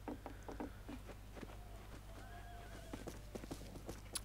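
Horse hooves clip-clop in a rhythmic patter while a horse neighs in the western shooter game Fistful of Frags, over a low steady hum.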